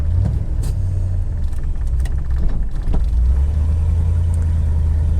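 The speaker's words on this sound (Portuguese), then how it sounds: "318 V8, como diz a lenda, foi o som que eu parei de chorar" A Dodge Ramcharger's 318 V8 rumbles deep and steady at idle, with a loud low throb and occasional mechanical clatter on top, close by.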